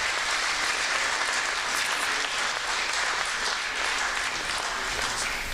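Sustained applause from a crowd at a fire department recruit academy graduation ceremony, a dense, steady wash of clapping throughout with no voices on top.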